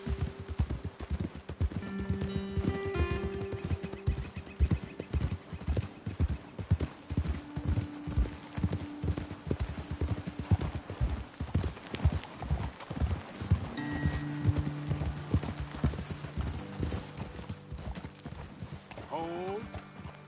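Horse hooves clip-clop steadily in a continuous rhythmic gait through a Red Dead Redemption game scene, with a brief whinny near the end and voices talking over the hoofbeats.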